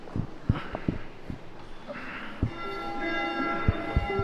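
A church bell in the bell tower on Bled Island, Slovenia, rung by a visitor. It gives a few clear metallic strikes whose tones hang on and ring out over a low indoor background, with no one talking.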